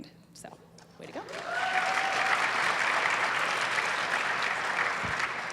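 A conference crowd breaks into sustained applause after a brief spoken moment and a whoop, the clapping steady and full until the end.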